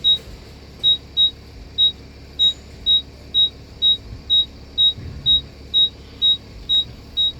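Warning beeps from an Auto-I parking sensor on a Mercedes ML350, repeating as short high-pitched tones at a steady moderate pace over faint background hum.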